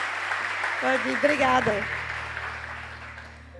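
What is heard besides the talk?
congregation applause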